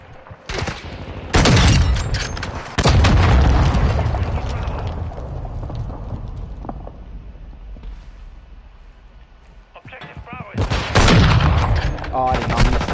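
Sniper rifle shots in Modern Warfare 2, a few loud, sharp cracks with booming tails spread across the clip, including a cluster near the end, over a dense game soundscape.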